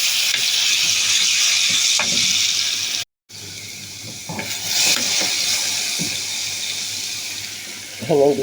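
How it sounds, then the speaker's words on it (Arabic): Steady sizzling and bubbling as garlic is added to simmering molokhia in a home kitchen, with a constant hiss, a brief cut and a few clinks, close by, while someone talks. "نضيف التومة دلوقتي الملوخية"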